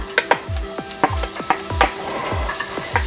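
Chopped onion and garlic sizzle in hot oil in a pan, with a steady crackle broken by repeated stirring scrapes and knocks about twice a second; close and fairly loud, no voices.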